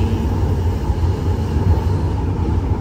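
A steady, loud rumble of a passing LRT-1 light rail train on the Cavite Extension fills the whole stretch, with continuous low roaring and no pauses.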